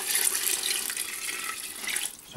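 Water pouring into a cooking pan, a bright, steady splashing rush close to the microphone that continues for a couple of seconds and eases off at the end, with no voices.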